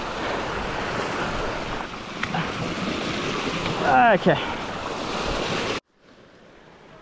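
Creek water rushing steadily beside a mountain bike trail in Left Hand Gully near Lithgow, a continuous broadband gush. A person briefly speaks partway through, and the sound drops much quieter near the end.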